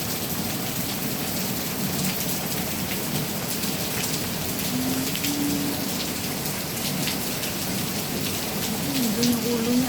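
Heavy rain pours steadily in Singapore, a dense, even hiss of drops across the whole stretch, with faint background sounds beneath it.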